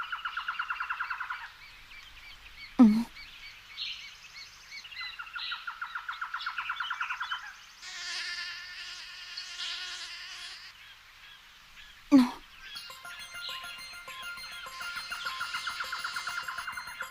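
A fishing bird in an anime gives repeated squawking calls, alternating sustained tonal cries and harsher honking bursts, loud and close, with two sharp impact hits between the calls and no speech over them.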